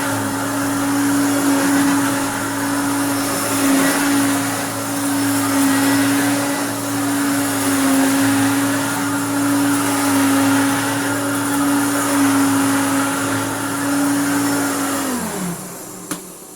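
A restored Hoover Turbopower Junior U1426 upright vacuum cleaner drones steadily and loudly at close range. Its motor whine holds constant and then winds down near the end.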